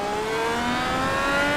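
A simulated Indycar accelerates at full throttle in a racing game, a loud, continuous engine whine rising steadily in pitch over a short burst.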